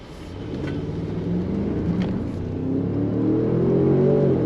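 Engine of a 2023 Range Rover Sport rising under acceleration with audible gear changes and downshifts, a steady close rumble climbing in pitch, interior road noise throughout, no talking.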